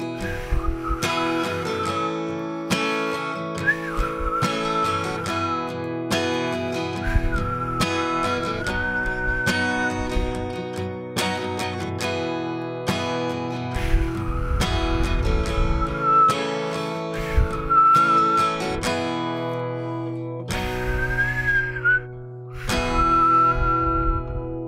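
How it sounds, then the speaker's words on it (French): A person whistles a melody over a steady musical backing, the tune recurring in short phrases across the whole stretch at moderate loudness. "Je t'ai sifflé en passant, c'est un gag."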